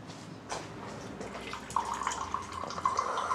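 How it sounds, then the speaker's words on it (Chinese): Water is poured into a container indoors, a steady trickling stream that rises in pitch as it fills over a few seconds, close by. "倒水呢。"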